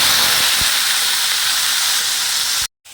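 Vegetables for rice tipped into hot oil give a loud, steady frying hiss that runs close and unbroken, then cuts out abruptly near the end before a short return.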